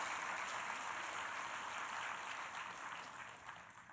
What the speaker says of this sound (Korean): 하나님께 영광의 박수를 돌려드립니다.